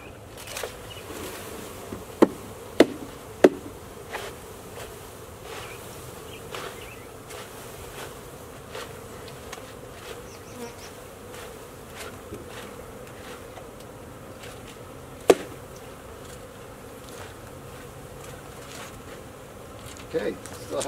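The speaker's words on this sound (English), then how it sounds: "Okay, still have a few bees sitting there." Honeybees drone steadily during a hive installation while the queen is handled, a continuous close buzz with a few sharp knocks and taps on top.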